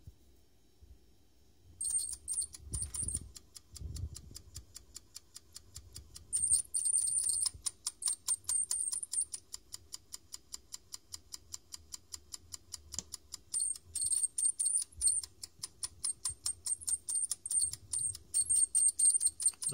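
A floppy disk drive spins a Floppiclene head-cleaning disk, giving a quiet, rapid run of regular ticking clicks with intermittent higher whirring bursts and soft low bumps, nearly alone.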